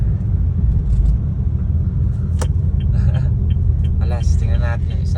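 Engine of a Honda Brio Gen 2 CVT automatic fitted with a throttle controller, droning steadily as the car accelerates in sport mode. People talk over the continuous low rumble inside the cabin.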